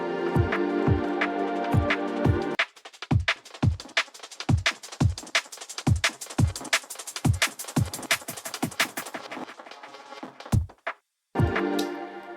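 An electronic FX layer built from the main sample and stacked with it, with a sustained chord giving way to rapid chopped stutter hits and percussive bursts, a brief drop-out, then the full texture returning, with no talking.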